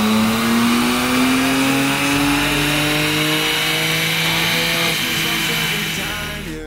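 A stock BMW 335i with the N54 engine and DCT gearbox revs on a dyno at Seelo Performance, a loud, steady, rising engine drone with a rich whine held for several seconds before easing off at the end.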